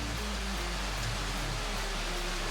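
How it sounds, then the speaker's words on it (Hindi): Heavy rain pours steadily over a village in Malaysia, a dense, constant hiss of drops hitting surfaces close by, with no voices. "बारिश काफ़ी तेज़ शुरू हो गई है।"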